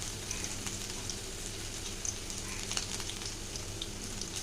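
Chopped ginger, garlic and onion fry in a pan with a steady, moderate sizzle and faint crackling pops throughout, with no talking.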